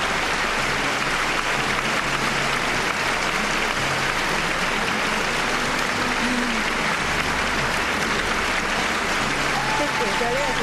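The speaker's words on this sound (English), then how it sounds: "Listen to the applause raining down from all sides." Dense, sustained applause from a large arena crowd at a figure skating event, steady and loud throughout, with voices mixed into the roar.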